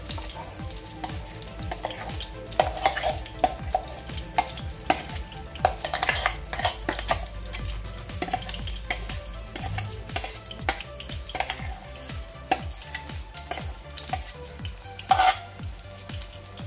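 A ground spice paste fries in a pan over a low gas flame, a steady sizzle broken by frequent scraping stirs and light clinks of a spoon against metal, close and fairly loud throughout.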